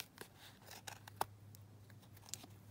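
Scissors trim a fabric tag with several quiet, crisp snips spaced irregularly, close up and faint against a steady low hum.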